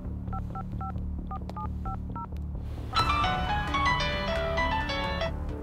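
In a Punjabi movie scene, a phone keypad is dialed: a quick series of evenly paced beeping tones plays over a low background hum, then dramatic music swells in and takes over.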